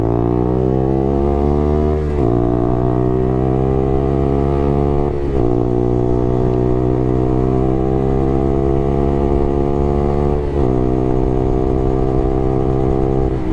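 A 125 motorcycle engine revving hard during a road ride, loud and close, climbing steadily in pitch through the gears with three brief dips at each shift, a continuous buzzing drone with no voices.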